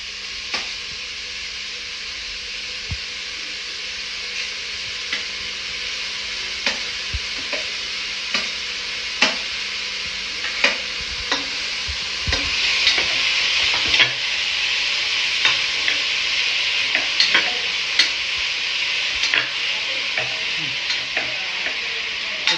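Carrots and vegetables stir-fry in a hot pan, a steady sizzle running throughout with frequent sharp scrapes and clicks of a spatula stirring against the pan, growing slightly louder midway.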